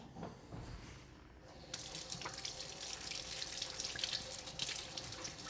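Cold water runs from a kitchen tap over leeks being rinsed in a sink. It starts as a quieter trickle and splashes, then the flow opens into a steady, hissing gush nearby.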